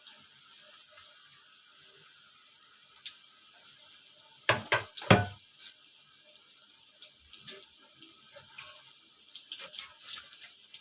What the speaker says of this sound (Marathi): आता मी तळून घेते बघा आता थोडं थोडं द्यायचं आणि सोडायचं